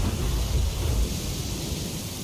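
Storm wall in the Gears of War video game, a dense steady roar of wind and rumbling thunder, loud and continuous with no talk.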